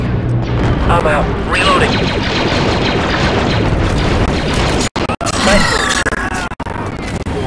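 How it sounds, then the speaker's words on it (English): Heavy artillery explosions boom repeatedly in Star Wars: Republic Commando, a dense, loud barrage under soldiers' radio chatter, with brief gaps between blasts. "we've got some heavy artillery over here"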